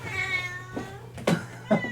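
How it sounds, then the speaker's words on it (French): Cat meowing inside an indie horror video game, with a few separate meows rising out of a low ambient drone, the last two louder and closer. "Oh chaton."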